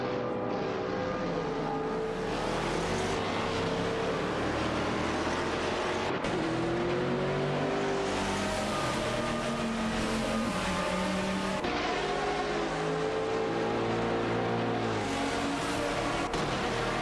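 Several race cars in an AI racing video game roar continuously, engine tones rising and falling as cars jockey for position, loud and steady throughout with no voices.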